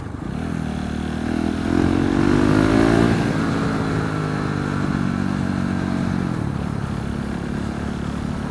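A 2016 Husqvarna 701 supermoto motorcycle cruising at about 150 km/h. The engine gives a loud, steady drone whose pitch climbs in the first few seconds and then holds even, with no talking.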